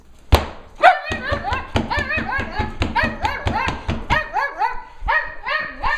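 A dog barks repeatedly in quick, loud bursts, close by, with short yips mixed in and a few thumps at the start.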